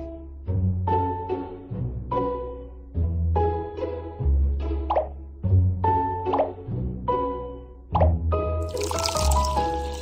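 Milk pours in a cartoon pet-salon game while a face mask is mixed: a regular run of bright, bubbly plops and drips, about one per second, ending in a short sparkling chime.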